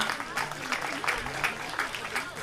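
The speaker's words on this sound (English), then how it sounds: "Give yourselves one more round of applause." A crowd at a Relay for Life event claps steadily for a couple of seconds, moderately loud, with a voice briefly audible underneath.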